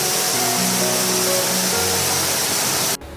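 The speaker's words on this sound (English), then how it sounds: "A path circles the waterfall where visitors pause behind a sheet of pounding water" Water pours in a loud, steady roar from a botanical garden waterfall, a thick sheet of pounding water heard up close and alone for about three seconds before cutting off abruptly.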